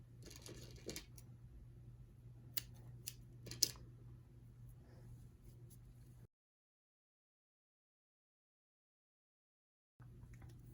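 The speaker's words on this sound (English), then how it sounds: "so now I just have to snip" Scissors snip the yarn tail of a crocheted drawstring pouch, giving a few sharp, close clicks over a quiet room hum before the sound cuts to silence.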